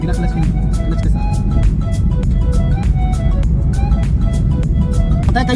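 Car engine running during a driving lesson as the learner works the clutch and accelerator, a loud, steady low rumble from inside the cabin with an instructor talking over it.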